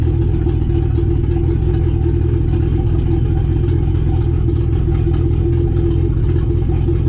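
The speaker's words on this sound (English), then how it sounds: "Truck is fucking loud just because I have the downpipe right there." A truck engine warming up after a cold start with a downpipe fitted, a loud, steady low-pitched idle drone with a constant rumble and clatter and no talk.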